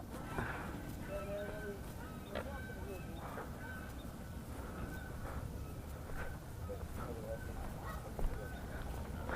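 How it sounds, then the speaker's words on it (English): Geese honk at a lake in repeated short calls, some close and some farther off, scattered over a low background rumble with people talking faintly. "The geese attacking you guys yet?"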